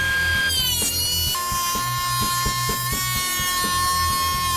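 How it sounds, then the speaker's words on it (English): Thickness planer taking wood boards down to half-inch thickness, a whining motor with sustained high tones and a choppy cutting rattle, close and loud, shifting pitch as the boards feed through. "So I'm going to run these two boards through the thickness planer and get them down to 1/2 inch thick."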